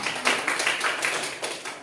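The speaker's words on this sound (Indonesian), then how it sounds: "beri tepuk tangan untuk Syarif" A classroom of pupils claps for a classmate, a quick run of rhythmic hand claps about four or five per second, fairly close and moderately loud, with no talking.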